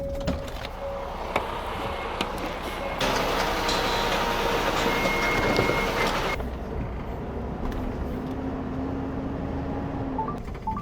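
A cargo truck engine, just emptied of its load, is started and runs with a steady loud mechanical drone and whine that swells for a few seconds, then settles to a lower idle.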